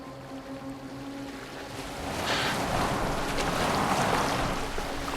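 A boat sails across open water in Assassin's Creed Valhalla, with rushing wind and waves swelling louder midway over a low, steady drone.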